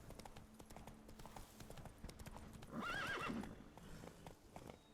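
Roach, a horse in The Witcher 3, gallops with rapid, steady hoof clip-clops, then gives a loud whinny partway through before the hoofbeats carry on.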